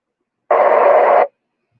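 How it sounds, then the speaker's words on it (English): A single burst of radio static as a transmission breaks squelch without audio on a 146.415 FM amateur radio net, a harsh hiss lasting under a second that opens abruptly and cuts off, with silence before and after. "he's breaking the squelch."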